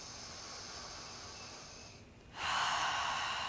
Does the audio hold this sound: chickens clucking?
no